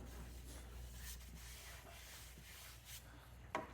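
Hand sanding a 3D printed Master Chief armor piece with easy back-and-forth passes, a soft, steady, faint rubbing scrape running continuously with a small knock near the end.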